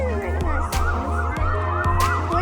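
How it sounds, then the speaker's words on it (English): A police car siren wails loudly and close at a parade, its rising-and-falling tone cycling over a low engine hum, with no talking. "It's a siren."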